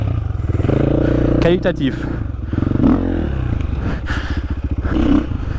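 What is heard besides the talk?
enduro motorcycle with Akrapovic exhaust revving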